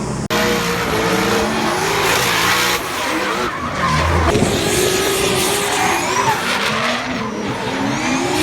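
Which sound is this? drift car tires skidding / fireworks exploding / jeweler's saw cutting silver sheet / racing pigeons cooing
drift car tires skidding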